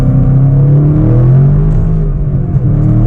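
A crashed-and-repaired ethanol-fuelled Chevrolet Camaro making about 460 horsepower to the tires pulls hard in first gear in track mode, its loud deep engine note rising and droning steadily up close with no talk over it.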